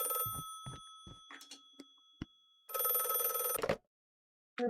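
A telephone bell rings in an indie horror game, one loud, sustained burst of about a second after a few quieter clicks and knocks, then silence.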